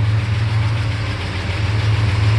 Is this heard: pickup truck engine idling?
yes